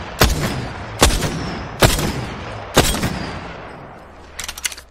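Weapon fire in the Apex Legends firing range: four heavy, evenly spaced booming shots with ringing tails, loud and close, followed by a short quick burst of lighter rapid shots.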